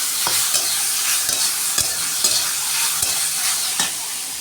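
Leafy greens frying with garlic in a pan, a loud continuous sizzle close up, broken by regular knocks and scrapes of a spatula stirring, with no talk.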